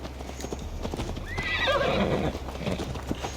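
A horse in Assassin's Creed Valhalla gallops with steady hoofbeats and lets out a clear, close whinny midway through.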